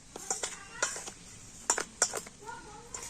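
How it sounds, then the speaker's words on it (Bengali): Dry pitha dough ingredients are stirred in a bowl with a utensil, producing a series of light, irregular clinks and scrapes against the bowl, close and moderately loud, with a voice briefly audible near the end. "তো সমস্ত শুকনো উপকরণগুলো একটু মিশিয়ে নেব।"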